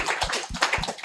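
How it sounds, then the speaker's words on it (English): A brief burst of hand clapping from a small group, quick and uneven, lasting about a second with no voices. "let us give applause to all of us"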